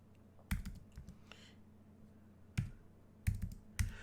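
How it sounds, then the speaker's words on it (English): A certification number is typed on a computer keyboard in a few separate bursts of crisp, close keystrokes with quiet pauses between them. Nobody speaks. "let me type that in as we watch together"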